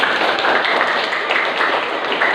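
A classroom of students claps for a classmate, a dense, steady patter of many hands filling the room at close range for a couple of seconds without pause.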